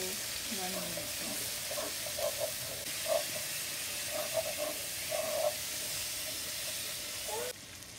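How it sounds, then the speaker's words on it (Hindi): Turmeric powder frying in a pan for chicken biryani, a continuous soft sizzle and hiss with scattered stirring taps, fairly quiet and steady throughout. "अब हम 1 स्पून इसमें टर्मरिक पाउडर डालेंगे. फ्राई करेंगे इसको 1 मिनट तक."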